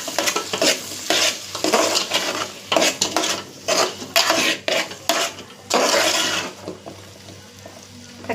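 Kurma masala gets stirred in a pan with a spoon, repeated scraping strokes in an uneven rhythm over a low sizzle, with light metal clinks, close and moderately loud, no voices.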